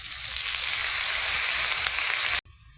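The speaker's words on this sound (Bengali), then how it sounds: "তো ভালো করে আমি কষে নেব আমড়াটা" Hog plums sauté in spice paste in a pan in a village kitchen, giving a steady, close hiss of sizzling that stops abruptly near the end.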